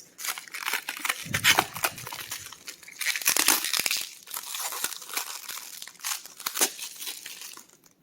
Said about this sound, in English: Let's start unwrapping everything.